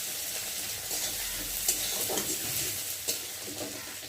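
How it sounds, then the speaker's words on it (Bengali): Raw onions frying in oil for a homestyle Bengali vegetable chachchari, a steady close sizzle with intermittent stirring scrapes and small spatters throughout. "পেঁয়াজটাকে ভালো করে ভেজে নেব"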